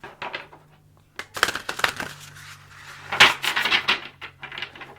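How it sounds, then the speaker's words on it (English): A gold-edged tarot card deck is shuffled by hand in a quiet room, crisp papery riffles and slaps in short bursts separated by brief pauses, close and fairly loud. "I try to be very careful when shuffling this deck because this gold edging is so beautiful."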